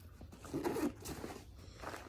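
A short zipper on a small front pocket of a lightweight get-home bag being pulled open, a quick raspy burst of zipping up close, with faint rustling around it.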